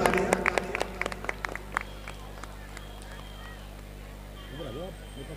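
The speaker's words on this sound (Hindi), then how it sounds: "जोरदार तालियां।" Applause from an audience at a live Ramlila stage event, sharp claps fading over the first two seconds into a low background murmur with a voice coming in near the end.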